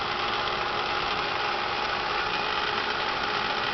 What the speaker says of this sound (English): This is a video about Bridgeport mill. You can see the spindle is on.